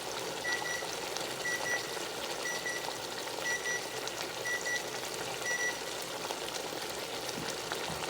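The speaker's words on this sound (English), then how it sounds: "That was my timer." A kitchen timer beeps in short, evenly spaced pairs, about six times, faint under a steady sizzling hiss from a pot on a Ninja Possible Pro cooker.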